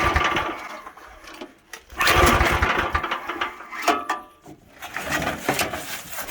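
An old Sears garden tractor diesel engine, left sitting four or five years, cranks and catches, its uneven mechanical clatter rising and falling in loud bursts with brief lulls between.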